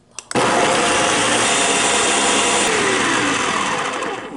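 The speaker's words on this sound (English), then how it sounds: "Put on a lid to the blender and blend" A blender blending raspberries whirs loudly and steadily for a few seconds after a brief click as it starts, then winds down.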